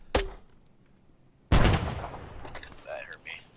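A grenade bounced off a wall in a shooter game detonates: a sharp click early on, then a loud close blast that rumbles and fades under a brief bit of talk.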